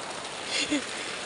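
A steady, dense wash of heavy rain hisses throughout, with a brief faint voice-like sound in the middle.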